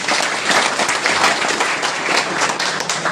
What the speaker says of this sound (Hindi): उस विभूति को भारत रत्न के जो उपलब्धि मिली है उसके लिए आप कम से कम अपनी तालियां तो बजा दें